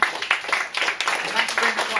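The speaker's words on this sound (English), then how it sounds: "So a round of applause." Scattered applause from a presentation audience, uneven bursts of clapping mixed with voices and room noise.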